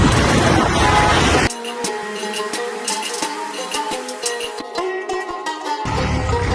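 A pickup truck on a road, hauling a cow for a mezban feast, produces a droning engine hum with a few clicks and knocks, bracketed at the start and end by loud rushing wind-like noise.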